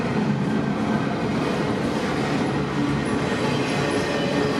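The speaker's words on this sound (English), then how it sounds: "two trains snuck up on me" Two trains pass at once on a smoky day, one hauling container cars, giving a loud, continuous rumble of rolling wagons with faint clickety-clack and no talking.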